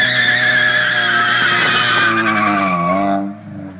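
Car tires squealing as the wheels spin, a loud sustained screech with engine tone for about three seconds before it drops off abruptly near the end.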